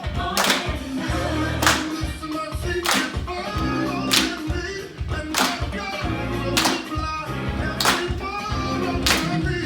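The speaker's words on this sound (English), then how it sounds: "Clap." Rhythmic hand clapping from a group practicing a routine, sharp claps landing in a steady pattern over loud backing music, with occasional voices calling out.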